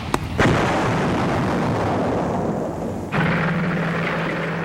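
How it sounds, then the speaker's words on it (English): Bridges blown up by US combat engineers near Malmedy during the German advance in the Ardennes: a sharp blast opens, then a sustained rumbling roar, with a second loud burst midway and a steady low drone continuing afterward. "US combat engineers blew up bridges to slow it down"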